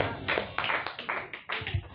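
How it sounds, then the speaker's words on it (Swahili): Church congregation at a Sunday service claps hands for Jesus in a few short, uneven bursts of rhythmic clapping, fairly close and loud. "Piga Yesu makofi"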